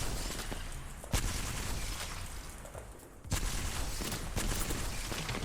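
Gunfire in a first-person shooter video game, with sharp loud shots at intervals standing out over a steady, dense background of game noise.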